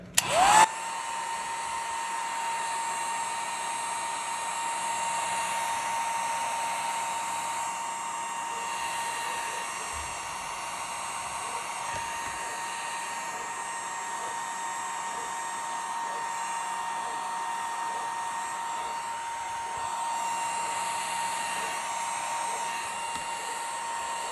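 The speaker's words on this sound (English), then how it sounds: "let's hit it with the hairdryer" A hair dryer blows continuously with a steady whine and airy roar, running unchanged for a long stretch after a brief click at the start.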